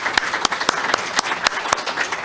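An audience claps for Dawie Roodt at the close of a keynote talk. The applause is moderately loud and steady, with individual sharp claps standing out through the rolling sound.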